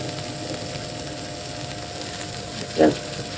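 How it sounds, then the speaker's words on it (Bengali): Garlic and onion dropped into hot oil give a soft, steady sizzle, joined near the end by a brief louder clatter, with no talking. "এখানে আমি রসুন পেঁয়াজ দিচ্ছি"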